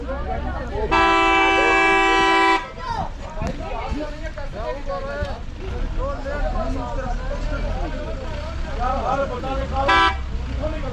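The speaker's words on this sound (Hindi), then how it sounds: "अभी एक दफ़ा यहाँ पे गाड़ियाँ फंस गई हैं तो बस अब दोनों साइड्स पे लंबी लाइंस लग गई हैं।" Car horns blare in a snowbound traffic jam on a mountain road near Nathiagali and Murree: one long sustained honk, then a short toot later, over a low engine rumble and distant crowd chatter.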